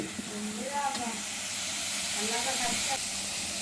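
Vegetables sautéing in a pan for a Kerala-style murrel fish curry give a steady, fairly loud hiss and sizzle throughout, with a voice speaking faintly over the frying noise.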